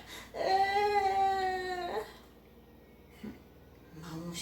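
A voice imitates a crying doll with a drawn-out wailing whimper, followed by a short pause and another soft sob, close and fairly quiet.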